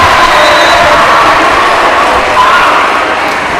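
A loud student crowd at a high-school volleyball match between USN and BGA, a dense, sustained roar of cheering and shouting in a gym that stays steady throughout.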